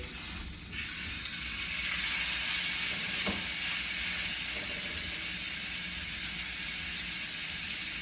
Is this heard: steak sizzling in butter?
yes